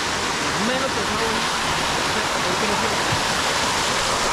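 Cold river water rushes steadily and loudly on a rafting trip, a dense unbroken roar with no pauses, while faint voices talk beneath it.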